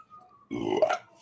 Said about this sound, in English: That was your sympathy burp